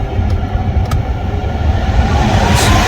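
Steady road and engine drone fills the cabin of a car cruising in fifth gear, a loud, continuous low rumble with no voices.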